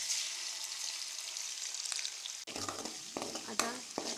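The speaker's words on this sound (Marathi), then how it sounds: "आता मी कांद्याची पेस्ट टाकत आहे।" Onion paste frying in a pan after eggs have been fried for egg curry. A soft, steady sizzle turns busier midway as stirring and scraping noises join in.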